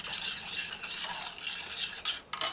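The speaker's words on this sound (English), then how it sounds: "use a spoon, stir it" A spoon stirs homemade barbecue sauce simmering on a low stove flame, giving a steady soft scraping rasp that runs throughout, fairly quiet and close, with a couple of sharper scrapes near the end and no talking.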